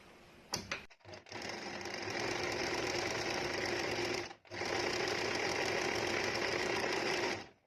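Usha Janome sewing machine embroidering with ordinary machine thread, a fast steady mechanical stitching chatter up close, running in two long bursts with a short pause between.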